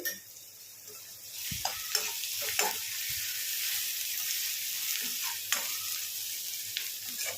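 A ginger-garlic paste with turmeric fries in a pan with a steady, fairly soft sizzle. A few light knocks of a spoon against the pan break in now and then, and no one speaks.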